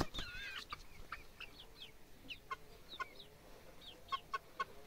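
Chickens cluck and a rooster calls at moderate distance on a farm, with a run of short, sharp clucks and chirps repeating irregularly over low background noise.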